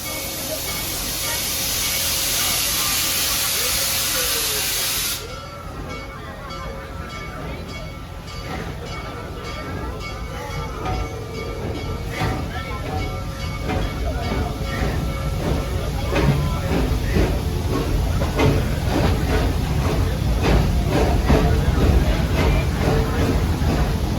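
The Serengeti Railway train pulls out of Stanleyville station at Busch Gardens Tampa, opening with a loud hiss of released air, then settling into a continuous rolling rumble with rattling car noise that builds as it moves.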